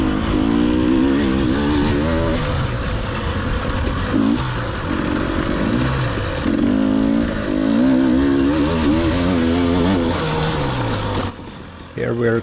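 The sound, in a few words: KTM 300 TPI enduro motorcycle engine pulling, shifting gears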